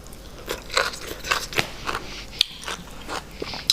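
Fermented fish (pla ra) being torn apart and eaten up close, with wet tearing, biting and crunchy chewing sounds in irregular bursts and no talking.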